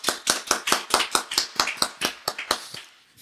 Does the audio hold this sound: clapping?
yes